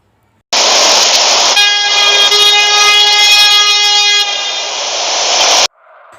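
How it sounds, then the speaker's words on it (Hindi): Loud, sustained vehicle horn blaring alone for several seconds over a rushing roar of passing traffic, a steady multi-tone blast that starts and ends abruptly, like heavy vehicles on a deserted highway. "सिर्फ हाईवे से जाने वाली गाड़ी के आवाज़ थे"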